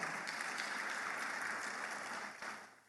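A church congregation applauds, a steady, dense roar of many hands clapping that holds for nearly three seconds and then fades briefly before a last burst.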